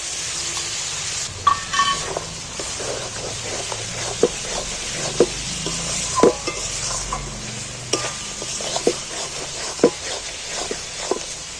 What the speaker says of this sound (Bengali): আবার আমি তেলের মধ্যে ফের একটু নাড়াচাড়া করে ভেজে নেব ছিলে মশলা করেছিল আদা বাটার জলটা একটু দিয়ে দিচ্ছি